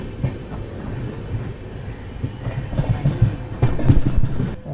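Yoga Express passenger train rolling from Deoband Junction toward Haridwar, heard from inside a 3AC coach: a steady rumble with irregular clattering wheel beats that grow louder near the end.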